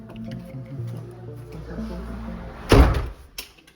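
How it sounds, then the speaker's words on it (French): A door slams once in a chalet, a sharp loud thump breaking through a low background rumble with faint murmuring before it. "Merci de pas claquer la porte"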